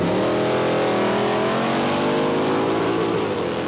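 A 1967 Chevy II drag car with a 350 cubic inch engine launching at a 1994 drag race, a dense, loud engine roar sustained throughout with rising harmonics, no talk.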